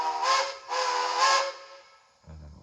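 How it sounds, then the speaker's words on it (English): A model train's sound decoder plays a steam-style stop whistle: two fairly loud, breathy whistle blasts, one short and one long, followed by a brief low mechanical chuff. "As long as a forward quill, a reverse quill, and a stop whistle."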